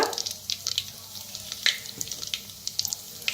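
Mustard seeds, cumin and asafoetida crackle in hot oil, giving quick, sharp pops and spits close by over a soft sizzle, with no voices.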